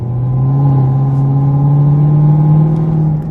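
A supercharged car fitted with a Corsa Performance cold air intake rumbles close by in a loud, steady engine drone with rising whine, heard from inside without talk.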